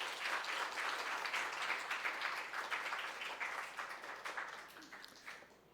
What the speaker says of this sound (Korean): 자, 우리 목사님 나오실 때 박수로 안녕하겠습니다